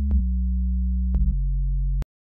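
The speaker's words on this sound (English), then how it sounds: "what we're going to do here is we're going to load a sine wave" A Serum synth patch built from a pure sine wave with one added third harmonic, playing a steady, loud low bass tone for about two seconds that shifts pitch partway through, then stops abruptly.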